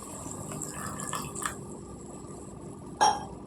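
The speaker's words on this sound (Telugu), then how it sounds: "ఎగురు కదండి అని కొద్దిగా వాటర్ వేస్తున్నాను." A little water goes into a pan of spinach curry on the stove. A low background hum is broken by a short, sharp splash near the end, with faint utensil clinks and no voices.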